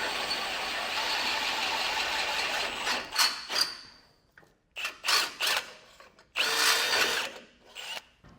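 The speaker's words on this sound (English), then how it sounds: "If you drill and it punches through real quick" A power drill whines continuously, then runs in several short bursts with brief pauses between them, loud and close, drilling through a 2021 vehicle's frame to fit a Roadmaster crossbar-style base plate.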